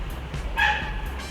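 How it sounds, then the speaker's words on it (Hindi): Several dogs bark and yip in a residential setting, short sharp barks repeating over a steady low background hum, with one louder, higher yelp near the middle. "कुत्ते बहुत भौंक रहे हैं।"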